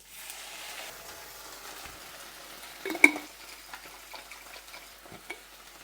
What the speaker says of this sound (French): On y ajoute notre sauce tomate.